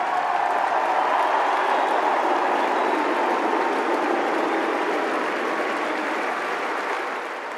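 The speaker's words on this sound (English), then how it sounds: "The crowd antagonised Djokovic by shouting "Rune" in such a way that he mistook the chant for boos" A tennis crowd chants the name Rune at a match against Djokovic, the drawn-out calls sounding like boos: a loud, sustained, dense roar of many voices that holds steady and eases off slightly at the end.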